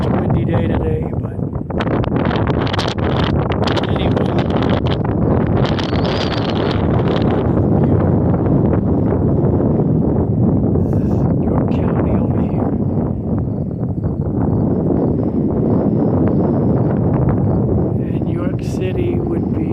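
Strong, gusty wind roars across the microphone at a hilltop scenic vista, a loud, sustained rumble that swells and eases, with a voice speaking underneath at times.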